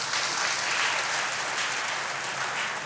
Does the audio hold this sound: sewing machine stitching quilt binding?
no